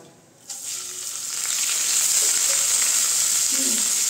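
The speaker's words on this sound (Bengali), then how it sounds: "এখন আমি ভালো করে একটু ভেজে নেব চাল আর ডালটাকে।" Gobindobhog rice and moong dal hit hot oil and browned spices in a pan, bursting into a loud, steady sizzle that swells and keeps going, with faint stirring scrapes near the end.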